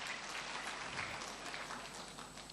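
A church congregation applauding during a sermon, a steady, even wash of clapping that holds at moderate level throughout with no talk over it.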